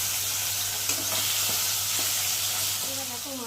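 Tilapia fish pieces fry in a shallow layer of hot oil in a wok, giving a steady close sizzle and hiss throughout, with a few faint scraping stirs and no talking.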